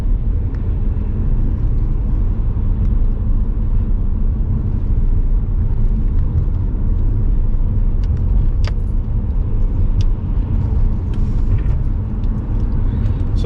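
A car drives the DN1/E60 road toward Brasov, Romania, through alpine villages in cold late autumn, giving a loud, steady low road and engine rumble from inside with a few faint clicks and rattles.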